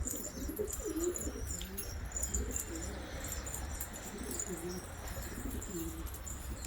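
Pigeons coo steadily at close range in a cold, snowy outdoor spot while being fed, with occasional chirps and brief wing flaps over a constant background hiss.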